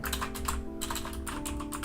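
Rapid typing of code on a computer keyboard, a close, continuous run of light key clicks with brief pauses between bursts, no voices.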